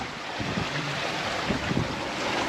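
Steady rush of water and wind noise as a sailboat glides along under gennaker, a broadband wash with low gusty rumbles and no voices.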